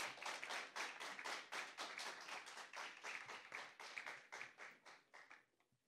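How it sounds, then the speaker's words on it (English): Quick, dense hand clapping from a debate audience greets a school speaker, a lively round of applause lasting several seconds before thinning out abruptly at the end. "Round of applause."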